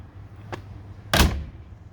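A car door on a 1946 Mercury Woodie wagon shuts with one solid, close thunk, after a faint lighter click.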